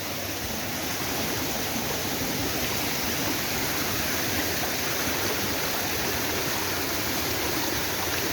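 A waterfall and stream pour without pause close by, a dense, loud, broadband rush of water that holds steady throughout with no voices.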